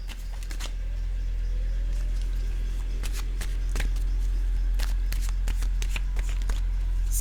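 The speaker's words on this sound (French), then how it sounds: "Je vais maintenant piger une carte, un message de l'univers pour vous." An oracle card deck is shuffled and a card drawn, with bursts of rapid riffling and flicking cards in several quick clusters, close and clear over a steady low hum.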